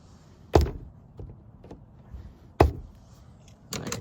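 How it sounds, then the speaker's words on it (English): A flathead screwdriver pries a trim panel clip loose on a 2010-14 Mustang, giving two sharp, close snaps a couple of seconds apart, with softer taps and scrapes between them in a quiet space. "Let's take my flathead and pry it down."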